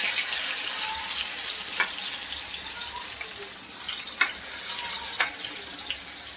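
Tomatoes dropped into overheated oil for a Khandeshi-style cluster bean sabzi, a constant soft hiss and sizzle with a few sharp spatters and clicks, moderately close and without speech.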